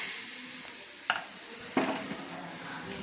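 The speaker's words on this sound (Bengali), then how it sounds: "এইভাবে ব্রাশটা তেল দিয়ে আমি বুলে নিলাম তাওয়াতে। আবার আমি গলনাটা দিয়ে দিলাম।" Patishapta batter poured onto a hot, oiled tawa sizzles softly and steadily, with a couple of faint clicks from utensils against the pan.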